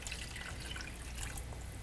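Water poured into a pot of white chicken chili on the stove: a steady splashing, gurgling pour close by, even and fairly quiet, lasting about two seconds with no talk.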